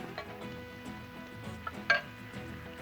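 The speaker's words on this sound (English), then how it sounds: "Now we're going to scramble these eggs." Eggs being scrambled on a Blackstone griddle: a faint steady sizzle with soft scraping and tapping of a utensil against the flat top, and one brief sharper clink near the end.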